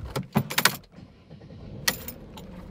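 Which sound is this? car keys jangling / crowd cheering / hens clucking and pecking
car keys jangling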